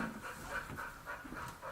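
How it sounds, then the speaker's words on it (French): A nine-and-a-half-year-old boxer crossed with an American Staffordshire dog pants rapidly and rhythmically close by, a steady run of breathy huffs with no talking. "C'est un boxer croisé American Staff qui a été abandonné"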